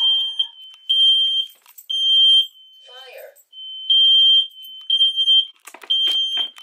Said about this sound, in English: My smoke detector just came on.